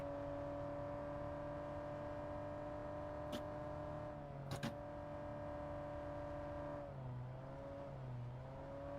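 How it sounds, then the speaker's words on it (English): A car in PUBG Mobile drives with a steady engine drone, its pitch rising and dipping as it revs and shifts, with no talk over it. "Trying to make sure I don't flip the car."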